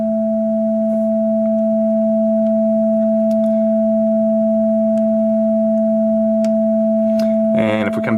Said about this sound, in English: track 1, which was just the sine wave being ring modulated